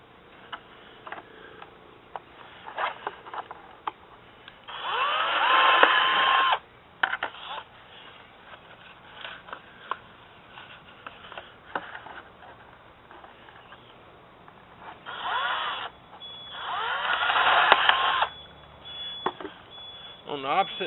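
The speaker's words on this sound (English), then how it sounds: "now I got to drill 2 more holes." A power drill bores holes through a metal coffee can in two close, loud whirring bursts, a short one and then a longer one, separated by quieter stretches of handling noise.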